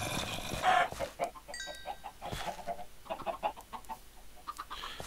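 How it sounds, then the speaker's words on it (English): Chickens in the Minecraft video game cluck repeatedly in short, choppy bursts, fairly close and continuous over a background of game ambience and sporadic clicks. "I don't like chickens running around my house."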